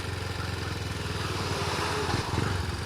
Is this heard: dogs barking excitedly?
no